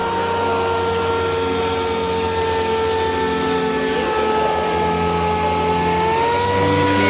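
A rotary machine sander runs at very fast rotation on a wet surface with water slurry, giving a loud, steady whine with constant tonal hum and no breaks.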